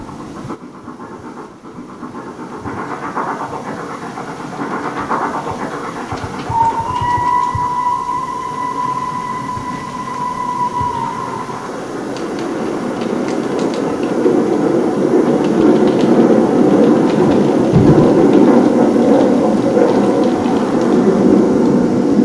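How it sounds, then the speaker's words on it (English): A steam locomotive approaches on a South Western line at Bridport. A distant, sustained whistle-like tone rises over a low rumble that grows steadily louder and heavier as the engine draws nearer. "Soon we will hear the distant sounds of this engine approaching."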